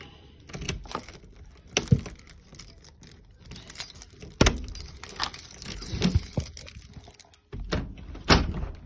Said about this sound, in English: And then unlocking from the other side.